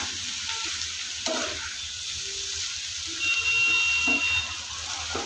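Prawns fry with onion paste in a pan, giving a steady close sizzle under irregular scraping and stirring strokes that grow slightly louder toward the end, with no talking.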